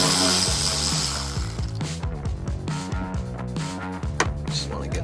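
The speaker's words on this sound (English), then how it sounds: "just take out all these 10mm bolts and stuff" Rapid ratchet clicking while 10mm bolts are removed from a Lexus GX470 headlight, a close, steady mechanical rattle under a background hum.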